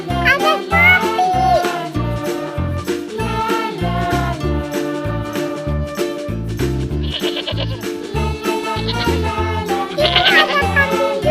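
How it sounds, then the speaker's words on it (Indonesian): Goats bleat at a zoo with wavering calls over loud, steady rhythmic music and a voice, which fill the whole stretch. "Ada kambing juga tuh"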